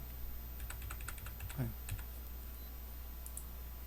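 Several faint, quick computer keyboard key presses, a short cluster of clicks including a Ctrl+D shortcut while duplicating a shape in Tinkercad, over a steady low hum with faint talk.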